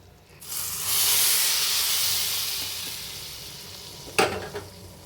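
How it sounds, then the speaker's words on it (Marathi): Hot tadka tempering hits a pot of pea kadhi with a loud, close sizzle that swells quickly, then slowly fades to a soft hiss, followed by a brief metallic clank. "तडका आपण ह्याच्यावर वतूया"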